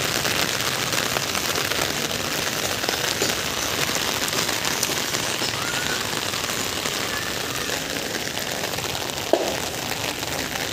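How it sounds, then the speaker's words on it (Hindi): Rain falling steadily in Vrindavan, a dense, even patter across the whole stretch with one brief sharper knock near the end and no voices. "बरसात का आनंद आ रहा है वृंदावन में।"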